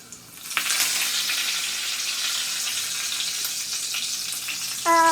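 Mustard seeds and garlic sizzle steadily in hot oil, a dense crackling hiss that starts abruptly and holds, with a brief clink near the end.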